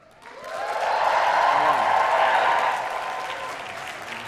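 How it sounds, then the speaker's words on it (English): A live student Pride event audience bursts into applause and cheering for guests coming onto the stage, swelling quickly into a dense clapping roar, then gradually easing off. "We have a cheer to end all cheers as we welcome to the stage Evan Davis and Ian McKellen"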